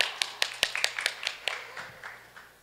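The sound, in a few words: audience applause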